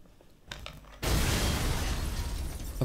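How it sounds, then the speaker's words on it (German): A faint clatter gives way to a sudden loud explosion of a television in Resident Evil 7, followed by a sustained roaring rumble that slowly fades. "war klar, dass der Fernseher explodiert."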